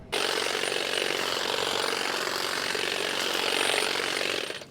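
A Saker 20V cordless hedge and grass trimmer with the hedge trimming attachment cutting through brush outdoors, a loud steady buzzing whir that starts abruptly, holds for several seconds and then trails off.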